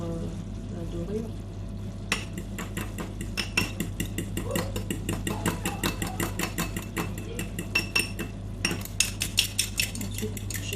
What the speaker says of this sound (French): je prépare mon mélange jaune de lait